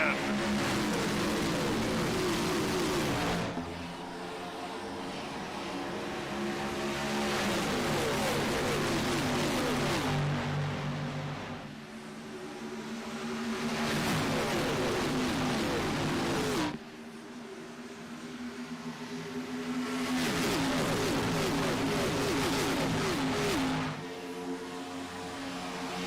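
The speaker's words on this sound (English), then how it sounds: "25 cars roar to life" Twenty-five race car engines starting up and revving together in a racing video game at Michigan International, a loud, sustained roar that swells and surges in waves, with a commentator talking over it.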